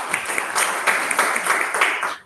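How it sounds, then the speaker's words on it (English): Brief, lively applause from a small audience at a Toastmasters club meeting, many hands clapping together for a couple of seconds before fading out. "Round of applause."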